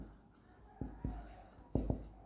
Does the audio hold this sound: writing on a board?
yes